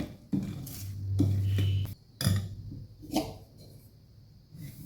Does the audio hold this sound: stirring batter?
yes